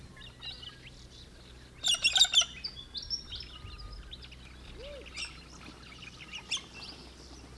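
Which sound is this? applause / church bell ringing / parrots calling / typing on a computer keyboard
parrots calling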